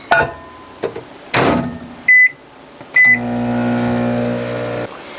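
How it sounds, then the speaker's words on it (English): Clunks and a couple of sharp electronic beeps, then a microwave oven hums steadily for a couple of seconds before a final click. "that's the sound of the microwave being done."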